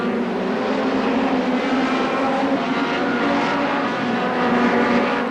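Hot rod race cars lapping the Brafield oval in 1984, a steady, loud engine roar that stays broad and dense throughout with no voices over it.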